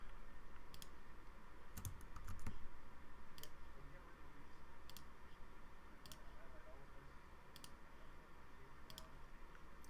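Sparse, faint computer keyboard and mouse clicks, a handful of sharp isolated ticks spread irregularly over quiet room tone.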